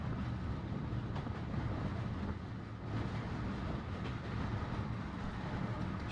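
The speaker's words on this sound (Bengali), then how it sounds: "মাঠ ঘাট পেরিয়ে ট্রেন চলছে।" A running train makes a continuous, dense rumble with a heavy low-end roar and steady rattling. It is loud and close, with no pauses and no voices.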